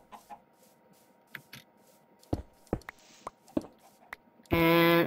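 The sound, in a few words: chicken clucking in Minecraft modpack Hexxit video game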